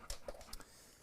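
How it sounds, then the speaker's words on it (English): Short, breathy panting from an arson detection dog, a few quick close puffs of breath within about a second, alone without talk. "He's one of our arson dogs."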